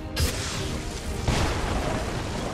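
A blaster bomb detonates in the XCOM 2 video game: a loud, close boom hits, then a second blast follows a second later, each trailing into a dense, rumbling roar that fills the rest of the moment.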